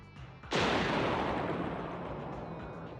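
A single explosion in Zenless Zone Zero erupts suddenly after a quiet moment, a loud, broad blast that rumbles and slowly decays over the next few seconds, with no voices over it.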